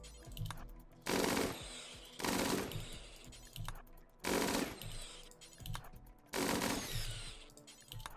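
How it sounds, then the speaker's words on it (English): Gunfire in the video game RimWorld as colonists shoot into a crowd of capybaras: four loud bursts of rapid machine-gun-like shots separated by quieter gaps, with no voices. "We're just going to shoot into the crowd of capybara and hopefully hit 17 of them in one go."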